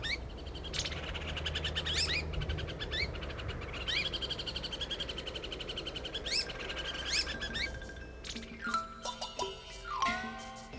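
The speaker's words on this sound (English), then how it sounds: "The Taiwan laughing thrush is an endemic species whose very loud call has earned it" A chorus of loud, repeated warning calls from Taiwan laughing thrushes, sharp chirps and rising whistles overlapping continuously, with bursts of more calls near the end.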